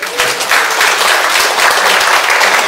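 Dense, steady applause from an elderly audience at a church senior-college choir concert, loud and close throughout.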